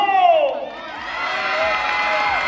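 A studio audience at a shouting contest cheers and whoops loudly, voices rising and sliding together in a sustained crowd roar with some shrill child-like shouts, steady and close for the whole stretch.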